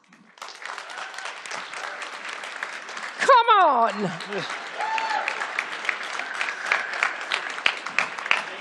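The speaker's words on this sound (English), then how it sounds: "clap now." An audience gives sustained clapping for a debate team at a debate on the role of the CSO. A voice shouts a short cheer over it partway through, and the applause carries on steadily afterward.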